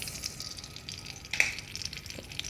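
Mustard seeds crackle and sizzle in hot oil in a pan for a tempering, a steady fine frying hiss with a few sharper pops, close and moderately quiet, no voices.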